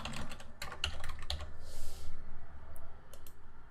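Rapid typing on a computer keyboard, entering a search term into location-management software: a close, steady run of crisp key clicks with short pauses and no talking.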